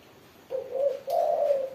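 Spotted doves and zebra doves coo close by in two soft, hollow phrases, a short note followed by a longer, rolling one, against quiet surroundings.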